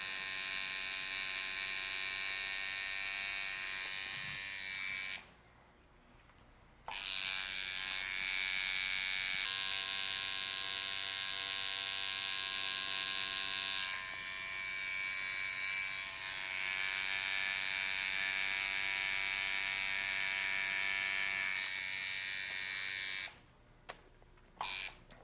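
A tattoo machine buzzes loud and steady at close range with a bright, harmonic-rich electric whine, running almost continuously and pausing briefly twice, with no talking.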